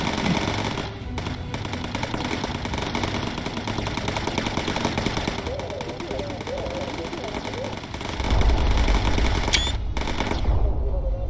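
Machine gunners shooting at fighters in Bomber Crew video game, rapid steady machine-gun rattle over a droning aircraft engine, with talk over it and a heavier rumble near the end.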